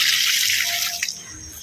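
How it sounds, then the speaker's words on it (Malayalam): Water poured steadily onto okra plants in a home vegetable garden, a continuous close splashing rush that eases slightly near the end, with no voices over it. "ഞാൻ ആദ്യം വെണ്ടയ്ക്ക് ഒഴിക്കുകയാണ്."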